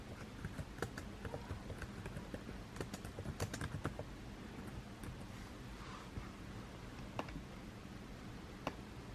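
Someone types on a computer keyboard to enter lettering for a shirt design, producing quiet, irregular clicks and taps over a faint steady background.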